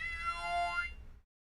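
Theremini theremin producing a cat-like meow, a single gliding pitched tone that rises and bends before ending abruptly into silence.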